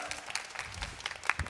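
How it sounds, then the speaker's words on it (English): Audience at a meeting in Atlantic City applauding, a short patch of scattered clapping that is fairly soft and thins out quickly, with a faint voice underneath. "I think that deserves a round of applause"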